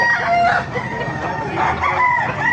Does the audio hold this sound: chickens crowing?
yes